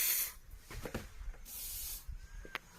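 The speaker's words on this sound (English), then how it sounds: "So this is just room spray, and I'm just going to spray it in." An aerosol room spray is sprayed into a Subaru's interior in two short bursts of close hiss, with faint handling knocks and rustles between them.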